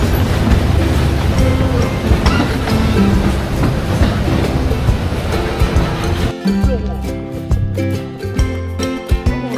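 A small tourist train ride at the Moonta Mines Museum in South Australia, with loud, steady rumbling and rattling of the cars throughout, then rhythmic clicking and clacking of wheels in the last few seconds, with some voices in the mix.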